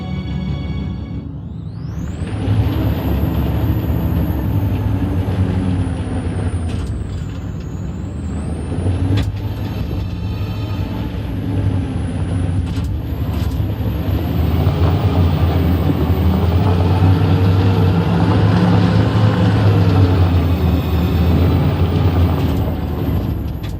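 Truck engine and air brakes in a video game, a loud continuous engine rumble with whining pitch sweeps and occasional sharp hissing bursts, sustained throughout with no talk.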